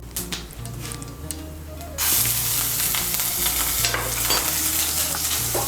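Ginger paste frying and being stirred in hot oil with whole spices, a steady loud sizzle that jumps up sharply partway through, with scraping stir strokes and a low steady hum underneath.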